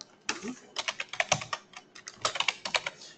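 Rapid typing on a computer keyboard while entering an installation package name for Kaspersky security software on Windows Server: a close, steady run of crisp key clicks in quick bursts with short pauses, without speech.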